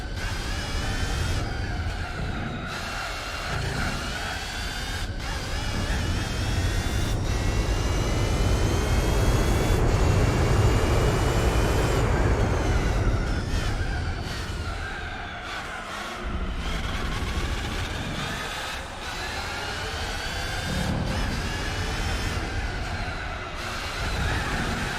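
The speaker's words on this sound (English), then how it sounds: "This car sounds so clapped out at the moment" Worn, clapped-out race car engine in the Gran Turismo 4 video game, a loud continuous drone that swells and fades as revs rise and drop, with faint tonal whine above and no talking.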